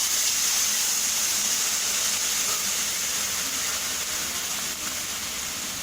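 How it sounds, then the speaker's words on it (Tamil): Water pours into a one-pot cooker for tamarind rice (puli sadam), a steady, hissing gush that runs evenly and fairly close for several seconds. "தண்ணி ஒரு பவுல் ஊற்றுறேன்."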